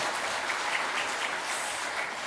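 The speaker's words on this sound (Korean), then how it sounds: "감사의 마음으로 박수를 한번 올려줬으면 좋겠습니다" A church congregation at a Sunday worship service claps together in a soft, even wash of applause that heard from a distance holds steady for a couple of seconds.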